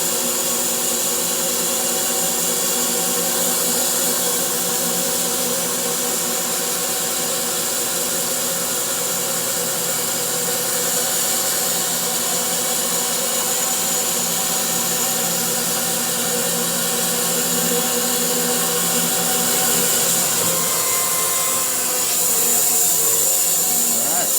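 An electric bandsaw mill with a carbide blade slices through spalted hickory in one long, continuous cut, a steady loud whirring drone with a constant high hiss that barely changes from start to finish.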